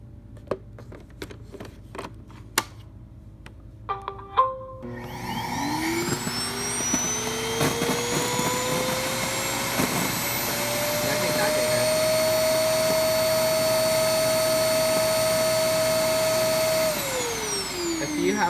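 A Roomba i-series robot vacuum starts after a few clicks and taps, then whines steadily while sucking up paper shreds, its pitch rising and holding loud and close before winding down.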